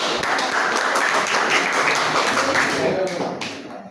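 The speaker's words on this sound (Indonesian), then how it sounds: "sekali lagi tepuk tangan." Classroom applause from students at a vocational school project lesson, a steady dense clapping that fills the whole stretch before tapering off at the end, with some voices mixed in.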